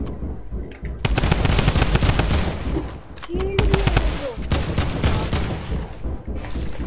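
Shotgun fire in Fortnite, loud close bursts of repeated gunshots in quick clusters with short pauses, under chaotic game noise and a voice speaking briefly.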